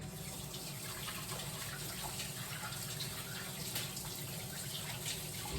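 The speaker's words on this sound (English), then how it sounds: "I'm gonna wash my hands one more time." A kitchen water tap runs in a steady, even stream as hands are washed during pizza preparation. The sound is faint and continuous, with no talking.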